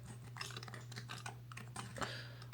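Steady, rapid typing on a Topre Realforce Type S hybrid keyboard with soft, muted keystrokes, close up under a faint low hum.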